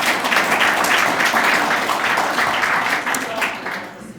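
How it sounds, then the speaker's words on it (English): A crowd at a ribbon-cutting ceremony applauds with dense, steady clapping that holds strong and then starts to thin out toward the end, with a voice faintly mixed in. "So let's clap our hands."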